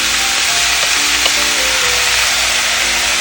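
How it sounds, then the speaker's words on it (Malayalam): Beetroot thoran mix frying and being stirred in a pan over a low flame, a steady close hiss of sizzling with light scraping from the spoon throughout. "നമുക്ക് നമ്മുടെ ബീട്രൂട്ട് തോരൻ്റെ മിക്സ് ആഡ് ചെയ്ത് കൊടുക്കാം"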